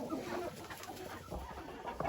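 Brahma hens and a rooster cluck together in a chicken barn, a continuous close murmur of soft clucks and chatter over a busy background.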